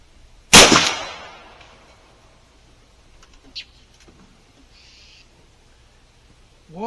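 A single sharp, loud shot from a Hatsan Piledriver air rifle firing a 350-grain lead slug, with a short ringing decay, followed by near silence and faint small clicks and movements.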